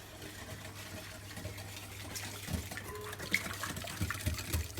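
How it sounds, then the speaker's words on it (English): Sesame biscuit batter with Greek spices is whisked in a bowl, giving a continuous wet sloshing and scraping that grows busier toward the end, heard up close with no talk. "I'm going to give everything a whisk"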